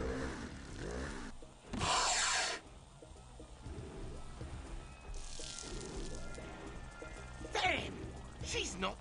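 A chainsaw-wielding enemy in the Vampire The Masquerade Redemption video game revs and grinds in harsh bursts, under game noise and combat sounds.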